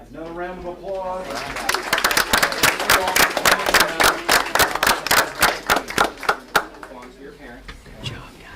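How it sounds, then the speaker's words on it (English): Scattered, uneven hand claps ring out at a board of education meeting after a voice speaks briefly at the start, the claps loud and near before thinning out toward the end. "another round of applause"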